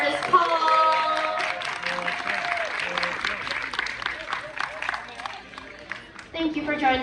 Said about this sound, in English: How about a huge round of applause for your incredible artist, Paul?